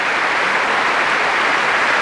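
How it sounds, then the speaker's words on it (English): Sustained applause from a large audience at the Royal Albert Hall after a BBC Symphony Orchestra concert, a dense, even roar of clapping with no breaks. "in the Royal Albert Hall, the applause is going on for the BBC Symphony Orchestra and Andrew Davis after this very heartwarming concert"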